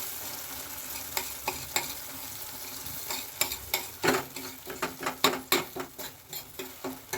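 Tomato gojju frying in oil in a pan, a constant close sizzle broken by irregular sharp pops and ladle stirs that grow busier toward the end.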